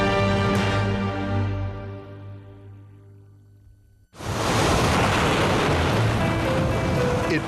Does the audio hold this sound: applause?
no